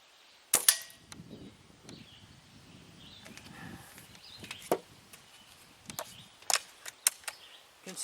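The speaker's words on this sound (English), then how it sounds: "So I'm going to put a few more rounds through this" A .177 Crosman Phoenix air rifle fires in light wind outdoors, a sharp snapping report followed by a scatter of quieter clicks and ticks, with several more crisp shots later, fairly faint overall.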